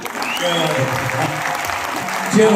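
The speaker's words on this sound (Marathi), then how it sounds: "टाळ्यांचा वर्षाव" A theatre audience at an anniversary celebration applauds steadily throughout, a dense, continuous wash of clapping that swells slightly louder near the end.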